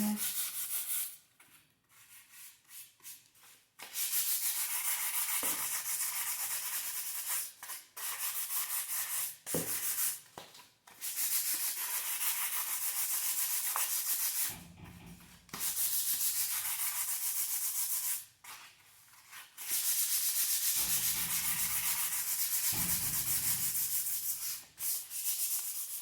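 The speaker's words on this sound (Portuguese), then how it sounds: "Você vai lixar toda essa caixinha, a tampinha, a caixinha." Sandpaper is rubbed by hand over a small MDF box and its lid, making loud, raspy scraping strokes in long bursts broken by short pauses.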